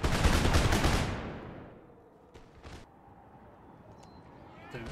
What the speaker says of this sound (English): They've slowed up, so we can now get some shots off.